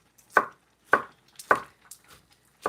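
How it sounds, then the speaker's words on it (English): Knife chopping ingredients for vegan salmon cakes on a cutting board, a few sharp close cuts in an uneven rhythm with short pauses between them, no talking. "I'm going to go ahead and just chop these up."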